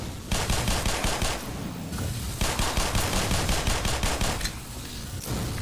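Rapid automatic gunfire in the video game Black Mesa, loud, dense bursts of repeated shots running almost continuously with brief pauses between volleys.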